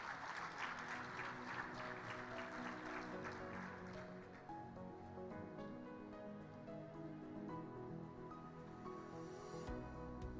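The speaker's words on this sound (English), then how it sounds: "A round of applause as he makes his way to the podium." Applause at a conference session on sustainable urbanization as the keynote speaker walks to the podium. Dense clapping fills the first few seconds, then fades beneath sustained, steady musical tones.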